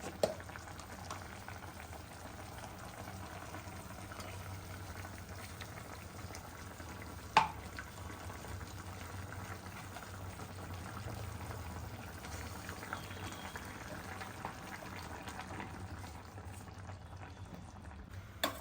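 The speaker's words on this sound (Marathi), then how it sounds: "एकदम मंद न करता मीडियम आचेवर ठेवून ते शिजवायला ठेवायचं" Spiced gravy with dumplings simmers on medium heat, a faint steady bubbling hiss with one small knock partway through.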